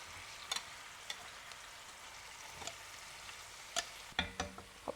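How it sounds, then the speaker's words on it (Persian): Onions fry in a pan after chicken has been fried, giving a soft, steady sizzle with scattered sharp clicks and taps from stirring utensils, quiet and close, with no talking. "حالا توی این پیازامون رو میریزیم میذاریم سرخ بشن."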